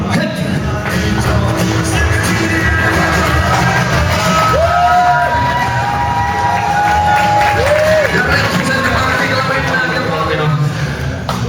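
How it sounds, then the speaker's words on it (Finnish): Spectators at a spring motorcycle event in Mäntsälä cheer and shout as a race gets underway, a dense, steady crowd roar with whoops and scattered voices carrying throughout. "Siellä yleisön kannustusta tarvitaan."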